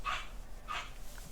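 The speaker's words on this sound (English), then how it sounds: "No plastic hitting plastic would be the dog barking now." A dog barks twice in short bursts, moderately near, with a quieter yip at the end; no talking.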